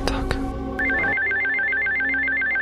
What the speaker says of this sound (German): Warum klingelt denn jetzt das Telefon?